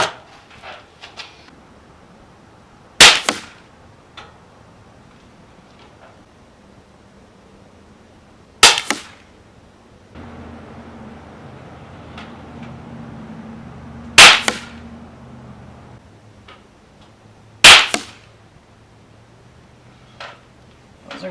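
Four subsonic .22 CCI CB Short rifle shots ring out as sharp, loud cracks several seconds apart against quiet outdoor background.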